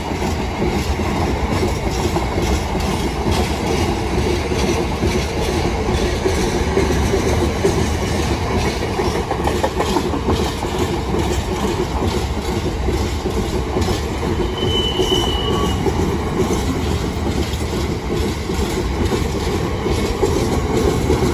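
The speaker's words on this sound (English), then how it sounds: "Oh, got some new Freightliner wagon." Freightliner freight train wagons rolling past a level crossing, a loud continuous rumble with rhythmic clickety-clack of wheels over rail joints and faint wheel squeal, close and sustained without talk.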